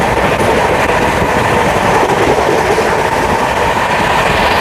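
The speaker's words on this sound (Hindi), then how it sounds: "मतलब ज़बरदस्त, बहुत ही तेज एक्सेलरेशन है ट्रेन का।" A Sampoorn Kranti express train picks up speed on the Delhi to Patna route, heard from inside as a loud, steady rumble with continuous clickety-clack of wheels over rail joints and no talking.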